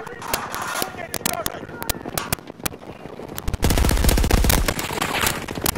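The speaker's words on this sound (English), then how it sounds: "Oh, I'm getting shot from behind" Rapid automatic gunfire in Battlefield 2042, sharp cracking shots and bursts throughout, breaking into a loud, dense continuous fusillade in the second half, with a voice faintly under the shooting.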